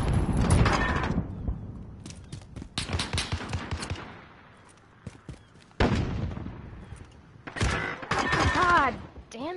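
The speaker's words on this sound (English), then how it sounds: "somebody's shooting" Gunfire in a multiplayer shooting video game, with repeated bursts of shots and sharp cracks spread across the stretch, some close and loud and others quieter, alongside a voice talking in between.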